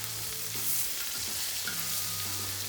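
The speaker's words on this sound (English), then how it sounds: "So right now it's like a burnt noisette, brown butter." Butter browning toward a dark burnt-noisette stage on a discada, giving a steady close sizzle with faint stirring scrapes, continuous and fairly loud with no voices.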